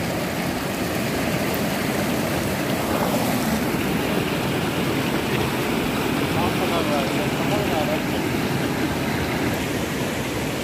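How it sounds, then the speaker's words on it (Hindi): Fast-flowing river water at Arogyadham, Chitrakoot, roars as a steady, loud broadband rush that fills the whole stretch without a break, with some wind buffeting the microphone. "पानी बहुत तेज बह रहा है।"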